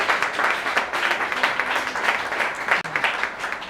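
A church congregation at a Sunday service applauds together, steady dense clapping throughout at moderate loudness.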